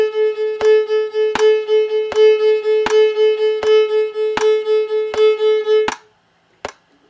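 Bowed string instrument sounding one sustained pitch with a rolling triple subdivision, eight strong accented strokes spaced evenly over about six seconds, then stopping abruptly with a single later tap; no voice.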